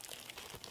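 A plastic bag around a GoPro 3.5mm mic adapter gives a brief, soft crinkle as it is handled during an unboxing, quiet and close.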